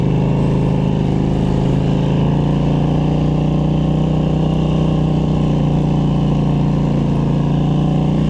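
A Polaris Scrambler four-wheeler pushes through deep snow in a blizzard, its engine a loud, close, steady drone with a low rumble that holds throughout without pause.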